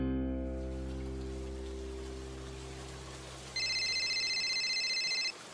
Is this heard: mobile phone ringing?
yes